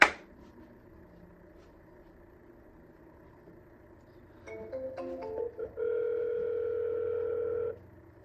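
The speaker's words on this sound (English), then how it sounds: "Just keep calling until someone answers." A telephone line during a sales cold call gives a steady dial or ringback tone, quiet at first, then a louder sustained tone after a short burst of tones, with no talking.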